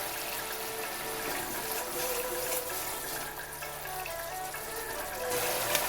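Water rinsed from a spice bowl pours into a simmering cauliflower and paneer vegetarian curry, a steady close splashing trickle running throughout at even level.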